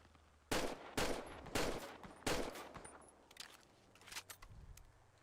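Four loud, evenly spaced 1911 pistol shots in the GTA FiveM game, each a sharp crack with a short tail, then quieter clicks and handling sounds.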